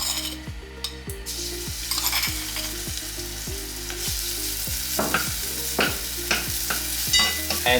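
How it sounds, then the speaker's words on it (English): Spring roll filling with smashed shallot frying in a hot pan, a loud steady sizzle with repeated rhythmic scraping and knocking of a utensil against the pan, close and with no one talking. "Alright, so now when the pan is hot, we can put in the mixture."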